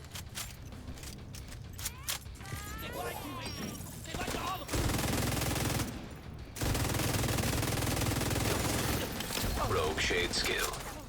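Heavy video game gunfire, dense fusillades of rapid shots and mechanical clatter that surge loud for several seconds at a time, with brief quieter gaps and faint background sounds between them.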